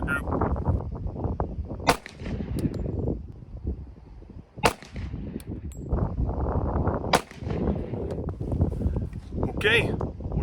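Three sharp gunshots from a Ruger Blackhawk revolver in .45 ACP, loud and spaced a few seconds apart outdoors. Wind noise and talk run between them.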